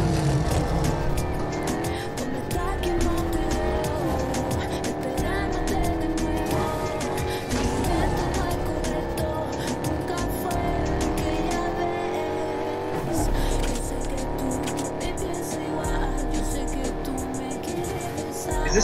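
A Hellcat car driven in Fortnite, its engine a steady, loud rising and falling drone with occasional tire squeal, heard under people talking over it.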